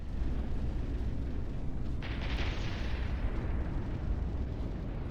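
An incendiary missile detonates in the From the Depths battleship combat game, a loud, rumbling low boom with a crackling burst that flares two seconds in and then rolls on through the rest of the clip.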